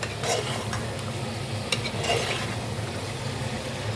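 Chicken biryani masala is stir-fried in a pot, a dense steady sizzle with repeated spoon stirs and scrapes against the metal, close and alone without speech.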